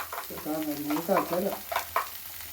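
Coconut, bird's eye chili and onion are stirred and scraped around a sizzling pan, with short squeaky scrapes and a soft frying hiss underneath.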